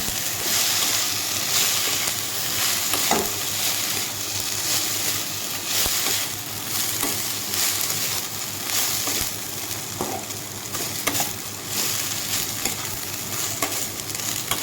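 Vegetable chowmein noodles frying lightly in a pan with green chilli, a steady close sizzle broken by scraping stirs of a utensil against the pan.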